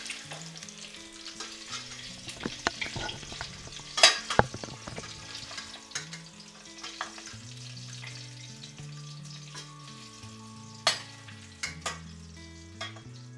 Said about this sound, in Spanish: Ya están bien selladas las costillas y las sacamos.